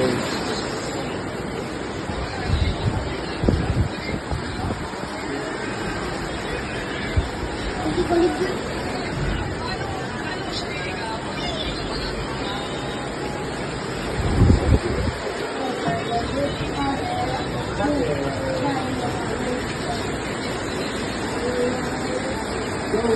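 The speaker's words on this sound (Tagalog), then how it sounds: "Grabe uwan na." Heavy rain pours in a steady, dense hiss over a flooded area, with gusty bursts and a louder surge near the middle, while someone talks at intervals.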